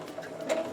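A home sewing machine stitching quilting fabric with the needle centered and a quarter-inch seam setting, giving a brief steady mechanical whir that sits close and fairly quiet.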